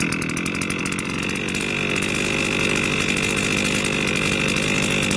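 A STIHL FS280 brushcutter's small two-stroke engine runs steadily at idle, a constant close buzzing drone with a fast rattly pulse that holds level throughout, with no voices.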